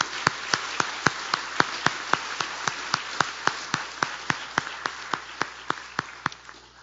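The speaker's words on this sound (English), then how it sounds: "Round of applause for her." Steady, evenly spaced claps, about four per second, ring out crisply and fairly close at an awards and convocation ceremony, keeping one unbroken rhythm from start to end.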